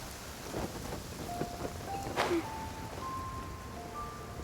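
Steady video game rain hisses throughout, with a soft rumble of thunder and a few faint tonal chirps from frogs layered over the downpour.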